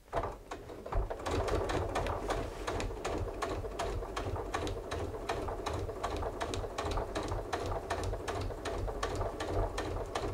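A sewing machine stitching fabric for a pouch, running steadily after a brief start, its needle producing a fast, even train of mechanical ticks over a constant motor whir, close up and alone.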